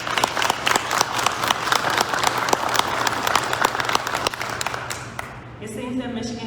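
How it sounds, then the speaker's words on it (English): Audience applause for presenters at a Michigan legal milestone ceremony, a steady crowd of many hands clapping loudly for several seconds before thinning out near the end. "if we can give our presenters a round of applause one more time"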